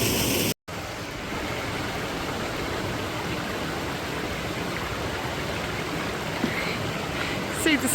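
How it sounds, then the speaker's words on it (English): A waterfall in a Welsh woodland gives a steady, dense roar of rushing water, loud and unbroken throughout apart from a brief dropout near the start. "This is a cool waterfall."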